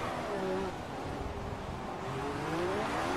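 A racing car in a racing video game climbs in pitch as it re-accelerates, a fairly faint whining engine note under a speaking voice.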